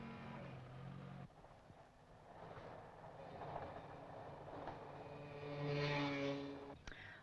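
A train passing a level crossing, heard as a faint, distant rumble of wheels and rails that swells toward the end with a tonal whine, over a dull background in an old film soundtrack.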